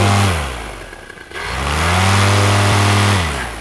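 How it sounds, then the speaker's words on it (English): A paramotor engine runs up: loud, close droning that dips as the throttle eases, then swells back to a strong steady high-revving roar before tapering slightly at the end. "Okay, little motor run up."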